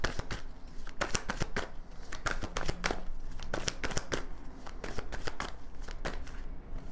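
Tarot cards are shuffled repeatedly at close range, a dense run of crisp riffling flutters and snaps repeating through the whole stretch, with no talking.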